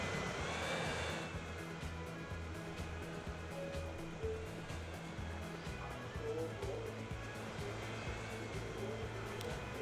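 Jet aircraft engines in the railway and logistics game Transport Fever 2 give a steady, broadband roar with a low droning layer, heard alone and continuous throughout.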